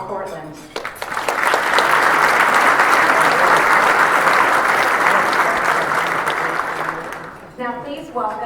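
At a town's State of the Town event, an audience breaks into a sustained round of applause that swells quickly, holds as dense, even clapping for several seconds, then fades out as voices return at the end.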